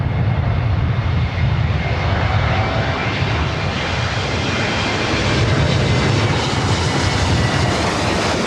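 A Spirit or Alaska airliner arriving at LAX makes a loud, continuous jet roar with a deep rumble that stays steady throughout, with no voices over it.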